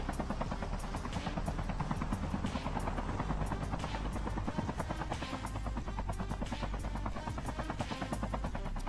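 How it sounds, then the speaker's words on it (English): Helicopter in a Call of Duty match, its steady chopping rotor throb holding loud and close for the whole stretch with no talk over it. "Thanks for the helicopter"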